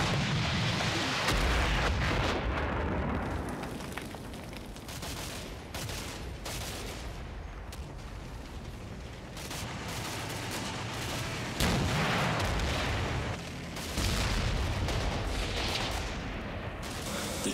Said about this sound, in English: The Germans are making their main thrust, but they're doing so in the face of an artillery barrage and continued shelling from the Sherman tanks